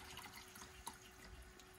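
Brownish-pink coolant water drains from a boat engine, a faint steady trickle with occasional drips, quiet and close.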